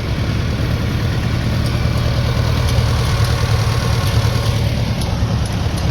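Three Case tractors from different years idle together outdoors after a cold start, producing a dense, steady low engine rumble with continuous mechanical clatter and no pauses.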